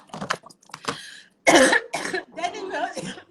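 A person coughs sharply a couple of times during a live nutrition talk show, loud and close, with speech directly before and after the coughs.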